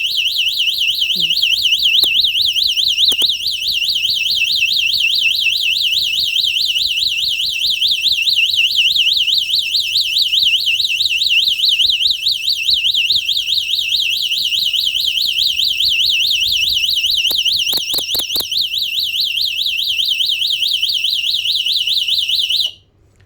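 An electronic squirrel repeller for a durian orchard, triggered manually, wails a loud, piercing alarm continuously in a rapid warbling tone for over twenty seconds, with faint clicks and handling sounds underneath, then cuts off.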